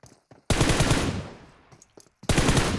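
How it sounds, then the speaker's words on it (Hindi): Gunfire in the video game BGMI, a fight involving a BRDM armored vehicle: loud close bursts of rapid automatic fire, a long burst, a pause with scattered shots, then another heavy burst. "BRDM में गोली लग रही है।"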